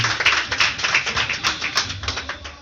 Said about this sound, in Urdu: تو زوردار تالیوں سے آپ بتا سکتے ہیں